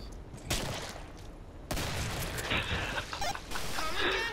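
Gunshots in the Killing Floor video game, loud dense bursts of firing that start and stop abruptly over a few seconds, mixed with harsh screeching game effects.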